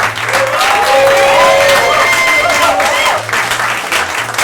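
Loud audience applause and cheering at a live Whose Line improv comedy show in St. Petersburg, sustained clapping with whoops and shouts throughout, dipping briefly then swelling again.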